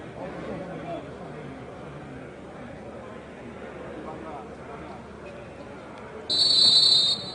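At a Kotoko vs Ashgold football match, a referee's sharp, loud whistle blast cuts through steady crowd murmur near the end, following several seconds of distant stadium hubbub.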